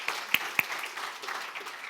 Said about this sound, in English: I think that deserves a round of applause anyway